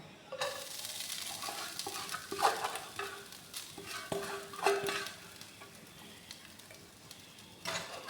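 Grated coconut stirred in a pan over a low flame for coconut laddu: a steady soft dry scraping and sizzling, punctuated by several clinks of the spoon against the pan, near and moderately quiet.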